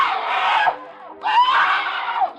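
A woman in a radio crime drama lets out two long, loud, piercing screams, separated by a short gap.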